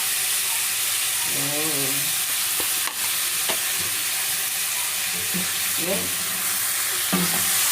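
Tomatoes sautéing in a pan for pork sinigang: a steady sizzling fry throughout, with scraping stir strokes and clinks of a utensil, while a voice speaks briefly.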